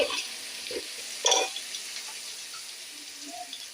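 Onions sizzle in a pan for chicken biryani, a soft steady crackle with a few louder stirring scrapes.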